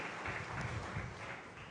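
A church congregation claps loudly together, a dense, steady wash of hand applause with no single claps standing out, filling the room throughout.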